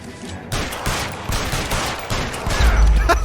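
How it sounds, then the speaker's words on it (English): Rapid gunshots fired at a fleeing suspect during an L.A. Noire police chase, a tight loud volley of cracks over a few seconds, growing heavier toward the end. "I didn't mean to actually shoot him. I was trying to shoot all around him."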